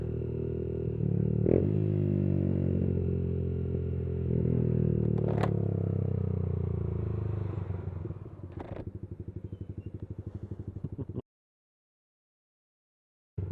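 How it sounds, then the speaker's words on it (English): An electric bike rolls past outdoors, a loud steady whirring hum with some clatter that holds for several seconds, then thins into a rapid buzzing pulse before cutting out. "It's like an electric bike."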